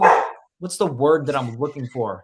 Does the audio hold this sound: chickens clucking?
no